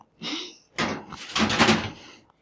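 A kitchen oven door swings and shuts during home baking, giving a short creak, then a clattering thud and a brief rattle as it settles, close by and with no talking.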